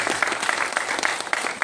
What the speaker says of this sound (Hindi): आपकी जोरदार तालियों के बीच में मैं उनको इन्वाइट करता हूं